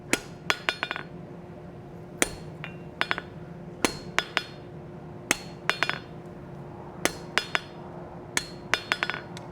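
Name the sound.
soft face hammer cutting metal material on an anvil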